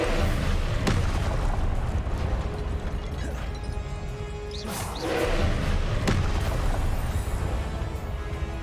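A Confringo fire spell blast in Hogwarts Legacy, a few dull thumping bursts over a dense, steady wash of game combat noise.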